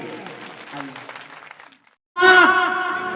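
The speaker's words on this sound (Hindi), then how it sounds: "जोरदार तालियां बजा दी इनके लिए" Talking trails off into a brief silence, then loud applause from a religious gathering's audience in Jirapur, India bursts in and carries on strongly to the end.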